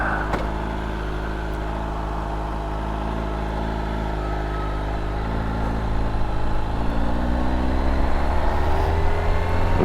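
A 2021 Kawasaki Ninja H2 SX SE+ motorcycle engine drones steadily while riding on the road, a loud continuous hum that climbs gradually in pitch as the bike accelerates near the end.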